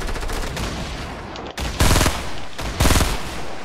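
Bursts of submachine gun fire in the Fortnite video game, two loud rapid volleys cutting through a steady background of dense, crackling gunfire.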